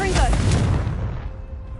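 A Confringo spell blast fired in Hogwarts Legacy, a loud booming burst up front that rumbles and slowly fades over the next second or so.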